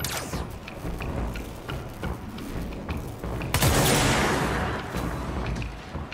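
A heavy weapon in the video game Control discharges with a sharp boom midway, followed by a long mechanical whine and clatter, amid game sound effects.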